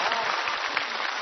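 A studio audience claps in dense, steady applause to welcome a famous singer onto a Chinese television variety stage, a brief continuous wash of hands with no voices.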